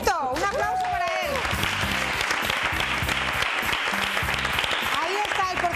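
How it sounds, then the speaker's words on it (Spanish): A television studio audience applauds steadily for a jury member, heard loud and continuous throughout while a presenter talks over it. "¡Un aplauso para él!"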